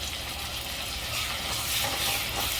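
Ground masala paste and curry leaves being sautéed and stirred in a pan for chana masala, a steady broadband sizzle with scraping stirring noise throughout, close and fairly loud, with no voices.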